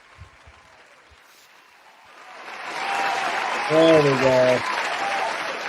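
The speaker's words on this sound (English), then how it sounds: "I gotta get some applause here" After a quiet stretch with a short spoken phrase, an applause sound effect swells in and holds steadily, with a brief cheering tone over the crowd noise partway through.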